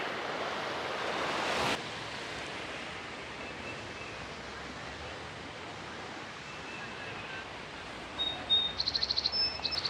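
Steady broadband rush of creek water flowing fills the scene, with a brief louder burst early on and faint bird chirps near the end.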